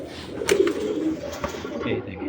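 A breeding racer pigeon coos in soft low rolling notes close by, while someone speaks briefly over it.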